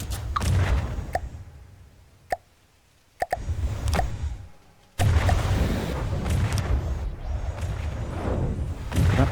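Cannon fire from a custom-built warship in the naval combat game From the Depths: sharp, isolated booming shots spaced irregularly, then a sudden heavy burst of sustained rumbling gunfire and engine noise.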